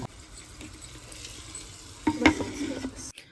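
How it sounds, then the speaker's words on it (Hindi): Garlic, red chilli, cumin and asafoetida sizzle steadily in hot oil for a village-style chickpea greens dish, with a louder burst of stirring and pan clatter toward the end before it cuts off. "जब तेल गरम हो गया था तो लहसुन डाल दिया है और लाल मिर्च डाली है"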